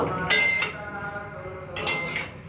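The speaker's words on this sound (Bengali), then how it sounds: "ওই জন্য আমি এগুলো আবার একটুখানি ঢেকে দেবো" A metal lid clanks onto a cooking pot holding chickpeas, cauliflower and potatoes, two bright clinks about a second and a half apart with short ringing tails, close by in a quiet kitchen.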